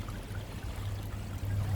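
Water trickling from a tap during a DIY job, a soft steady running wash with a low rumble underneath, close and unbroken, no speech.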